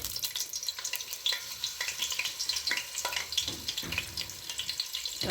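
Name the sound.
margarine melting and sizzling in oil in pot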